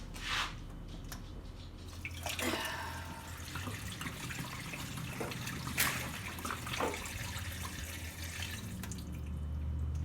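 Water pours and splashes into a cooking pot holding chicken pieces, a faint steady trickle with scattered drips and clinks.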